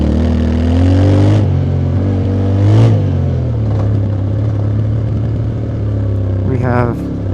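A Yamaha T7 on Bridgestone Battlax Adventurecross tires rides through sand with its engine droning loudly and steadily, rising and dipping as the throttle shifts, with a brief revving surge near the end and a voice talking over it.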